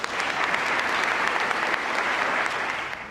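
An audience at a teen awards ceremony gives the nominees a sustained round of applause, many hands clapping in a thick, even roar that tapers slightly near the end.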